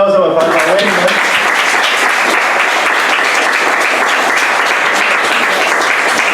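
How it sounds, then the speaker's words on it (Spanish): An audience applauds for Wilmer at the close of a live presentation, a loud, dense, continuous clapping that swells right after a brief spoken lead-in and stays strong to the end. "Pues un aplauso por favor a Wilmer."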